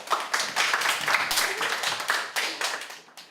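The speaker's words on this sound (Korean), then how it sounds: "박수 한번 치시죠." A small audience claps briefly at an internship orientation, the close, uneven claps rising in bursts and fading out within a few seconds.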